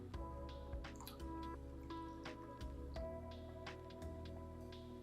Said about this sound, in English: I'm going to take my matcha and pour it on top.